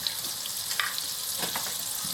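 Flour frying in a pan as the roux base for thickening a mushroom broth, a steady close sizzle and crackle running without pause, with faint stirring scrapes and no talk.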